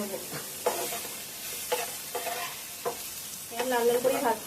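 Close, steady hiss of soybean chunks browning in hot oil, punctuated by a handful of metallic scrapes and taps from stirring in the pan.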